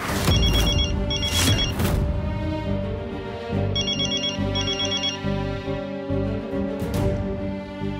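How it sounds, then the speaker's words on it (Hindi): A telephone rings in a Hindi TV drama household: an electronic ringtone with repeated bursts of chirping trills over a swelling dramatic background score with heavy booms. "भैया उसी का फोन होगा, उठाइए ना।"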